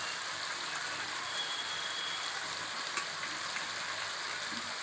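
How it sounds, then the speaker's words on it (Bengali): Onion and tomato fry in a pan for Jodhpuri chicken, giving a steady, dense sizzle with small crackles that holds evenly throughout, close up and without any voices. "যখন পেঁয়াজটা টমেটোটা একসাথে ভাজবে তখন এতে অল্প একটু নুন ছড়িয়ে দেবেন"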